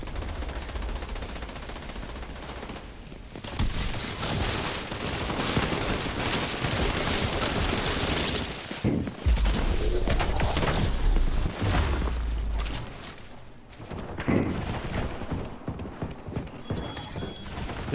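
Gunfire in a video game aimed at a dead body, bursts of shots mixed with loud galloping hooves and horse sounds, continuous and dense throughout with no talking.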